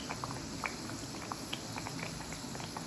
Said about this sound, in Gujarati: ધીમા તાપે એને તળવાની. એ પૂરી તળાઈને એની જાતે જ ઉપર આવશે